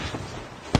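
Gunfire in Call of Duty Mobile: two sharp, close shots crack in quick succession near the end, after a short quiet stretch.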